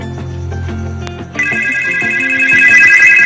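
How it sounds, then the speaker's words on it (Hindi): A phone rings with an incoming WhatsApp call, a bright repeating ringtone that starts partway through and grows louder and denser, with no talking. "हमारे पास कॉल आ चुका है, आप देख सकते हैं।"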